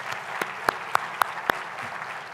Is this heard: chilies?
no